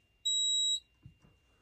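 A smoke detector sounds its pre-alarm in one shrill electronic beep lasting about half a second, heard close and loud, followed by faint low thumps in an otherwise quiet room.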